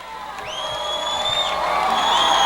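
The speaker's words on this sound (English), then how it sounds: "Fairfield Prep's traveling crowd is starting to get up and get loud as North Haven's crowd has gone silent." A traveling high school football crowd at a Friday night game cheers and whoops, the roar building gradually louder over a few seconds, with high whistles rising above the broad noise.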